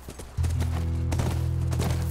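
Horse hooves clip-clop in The Last of Us video game as a few soft, irregular thuds under a steady low droning hum, with faint talk at the start.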